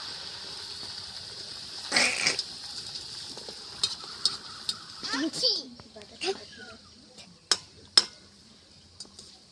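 Stuffed eggs fry in a pan with a soft, steady sizzling hiss, close by, broken by a few clinks and scrapes of utensils and pans, with a voice briefly heard.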